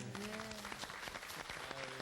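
Audience applause in a large hall at a prayer meeting, dense steady clapping from a crowd filling the whole two seconds, moderately loud with no talk over it.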